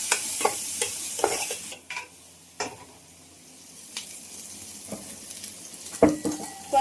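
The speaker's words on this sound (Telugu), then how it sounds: "కొంచెం కల్లుప్పు, అల్లం వెల్లుల్లి పేస్ట్ కొంచెం మొత్తం వేసుకొని బాగా కలిపి వేసుకోవాలి" A spoon scrapes and clatters around a pan as rock salt and ginger garlic paste are mixed in, with soft sizzling underneath and a few sharp knocks, close and clear.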